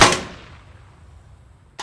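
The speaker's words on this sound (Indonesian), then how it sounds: "Jim sedang melatih Miguel bagaimana cara menggunakan pistol" A pistol fires a single sharp, loud shot at shooting practice, its echo decaying over about a second and a half before a brief second impact sounds at the end.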